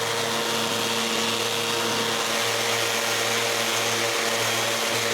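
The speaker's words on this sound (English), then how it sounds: "when we're done with the 80 grit sandpaper, we switch to 120 and resand it all" A big wooden door frame is sanded with 120 grit sandpaper, giving a steady, close machine whir with a constant hum and no pauses.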